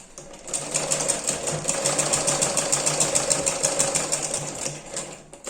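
A sewing machine runs in one steady, rapid burst, its needle clattering in an even rhythm as it stitches a blouse. The sound is close and continuous, with no talking.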